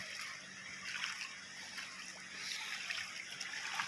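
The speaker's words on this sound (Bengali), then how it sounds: "দেখুন ঢেউগুলো" Waves washing onto a beach at dusk, a faint steady wash of water with gentle swells and splashes, distant and even, with no talking.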